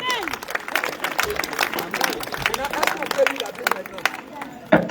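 A church congregation applauds the Lord Jesus with lively, sustained clapping mixed with cheering voices and crowd babble, loud and close, ending in a sharp final burst.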